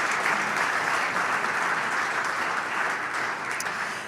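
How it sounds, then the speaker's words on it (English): A large audience claps steadily throughout at a district business gathering, a full, even wash of applause that holds for about four seconds and eases slightly at the end, with no talking. "Applause."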